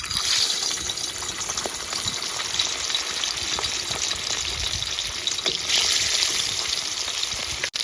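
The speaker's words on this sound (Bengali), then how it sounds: "তো তেলটা গরম হয়ে এসছে, এবার মাছগুলো ছেড়ে দেবো এক এক করে।" Pieces of katla fish frying in hot oil in a wok, a steady loud hiss and crackle of sizzling that holds throughout, close up with no voices.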